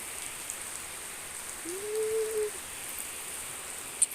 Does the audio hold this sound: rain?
yes